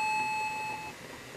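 A steady electronic beep from a multimeter continuity test, one continuous tone lasting just under a second, then it cuts off into quiet room noise.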